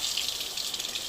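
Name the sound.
water running from a tap over a glued syrup bottle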